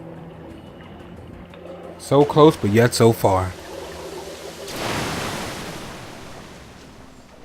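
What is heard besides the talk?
river water in video game Metro: Last Light Redux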